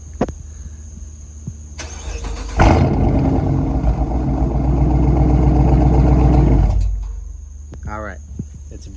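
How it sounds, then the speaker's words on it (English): A 2019 Dodge Charger with a mid muffler starts up and its exhaust rumbles loud and deep for about four seconds before dropping back to idle. "let you guys hear the exhaust real quick with a mid muffler"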